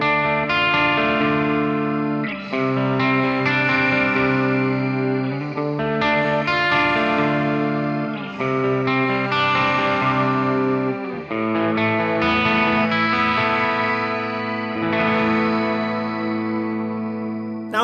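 Electric guitar played through a Mooer GE150 Pro processor with shimmer reverb, sustained chords blooming into bright, washy tails, loud and continuous with no talking.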